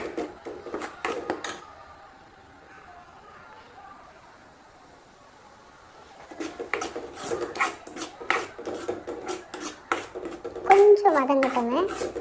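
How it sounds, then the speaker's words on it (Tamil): A spoon scrapes and rubs through thick ground masala paste in a pan, rasping strokes in two bursts with a quiet stretch between, under a person's talk. "அரைச்சி வச்ச விழுதையும் அதில் போட்டு நல்லா ஒரு 2 நிமிஷத்துக்கு கிண்டி விடுங்க"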